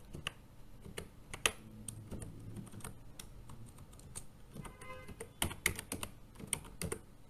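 Keys clicking on a computer keyboard in quick irregular bursts, light tapping strokes with brief pauses between words, fairly close and faint against a quiet room.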